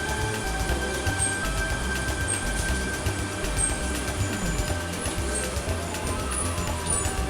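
A passenger train rolls toward a rail depot near Waterfall and Helensburgh, giving off a steady, continuous rumble and hiss that holds at an even level throughout with no clear voices.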